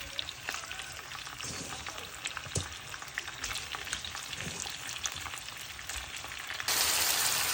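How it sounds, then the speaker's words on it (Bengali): Prawns fry in a pan for prawn malai curry, giving a crackling, popping sizzle with irregular spits and stirring clicks, fairly close but moderate in level, then a louder hiss at the end. "চিংড়ি মাছগুলো ক্লিন করে রেখেছিলাম এখন এগুলো ভাজি করব চিংড়ির মালাই করবো"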